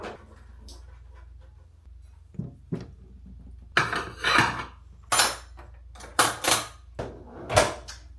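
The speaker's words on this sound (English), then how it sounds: "so we're gonna put the dishes away" Dishes are put away in a home kitchen in the morning: a run of sharp clinks and clatters of plates and cutlery set down, close by, in uneven bursts with quiet gaps between.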